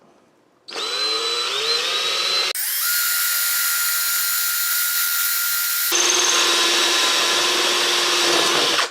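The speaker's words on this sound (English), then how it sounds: "we'll go drill it" A power drill bores into a metal bracket for a WR250E motorcycle, running as a loud, steady whine in three sustained bursts with changing pitch as the bit bites.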